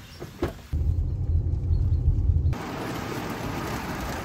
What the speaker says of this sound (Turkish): hava aşırı yağmurlu